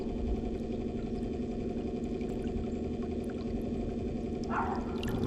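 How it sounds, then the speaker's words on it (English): Minn Kota Riptide Terrova 24V 80 lb trolling motor running on a boat: a faint, steady electric hum with a low tonal whine, and a brief splash of water near the end. "Now that's just like the electric motor noise."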